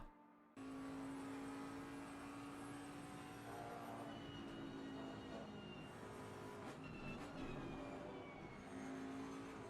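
Bentley race car engine droning steadily at high revs down a long straight in a Silverstone 24-hour endurance racing video game, a loud sustained tone with slight pitch shifts and no talk over it.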